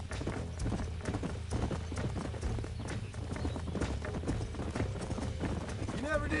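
Horse hooves clip-clopping in Red Dead Redemption 2, a steady, rhythmic trot of repeated hoof strikes under game music and voices, with a brief whinny near the end.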